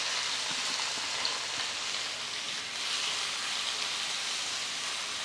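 Three medium-sized chopped onions frying in hot mustard oil give a steady, dense sizzle and crackle, continuous and fairly close with no talk over it.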